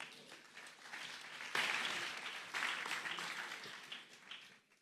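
Audience applause at a talk on buying shares, a burst of many hands clapping that swells suddenly, holds steady for a few seconds and then fades away, moderately distant and alone.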